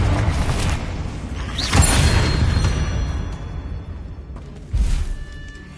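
Confringo blasting spell cast in Hogwarts Legacy: a sharp magical burst booms out near the start of the second second, followed by a fading rumble, then a second heavy blast strikes near the end.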